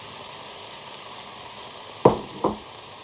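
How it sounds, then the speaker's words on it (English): Garlic and ginger sizzling in a frying pan, a steady soft hiss close by, broken by two sharp scraping knocks of a utensil near the end, with no talking. "garlic and ginger have been fried for a minute or two"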